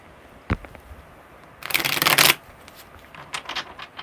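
Tarot cards are riffled in one quick, crisp burst, with a light tap before it and a few soft card shuffles afterward.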